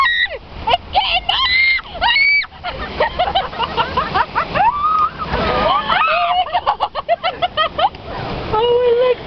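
Water splashes over riders on the Congo River Rapids raft ride at Alton Towers, with loud screams, shrieks and excited shouting running continuously over the spray.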